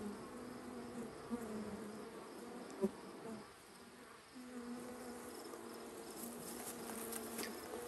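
A honey bee colony hums at night in a bee yard, a steady faint drone of many wings with a few brief louder buzzes from single bees near the hive entrance. No one speaks.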